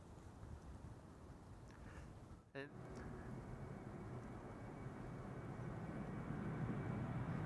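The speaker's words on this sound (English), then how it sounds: "Fly4 Airlines 737-800, Irish registered, EIFFD, Foxtrot Delta. Now rolling" A twelve-year-old Boeing 737-800 airliner operated by Fly4 Airlines rolls for takeoff, heard as a steady broadband engine roar with wind noise that builds gradually in loudness, after a brief dropout partway through.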